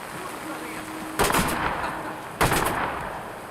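Two loud, sharp shotgun blasts go off in a video game, about a second apart, each with a brief ringing decay, over a quiet background hum.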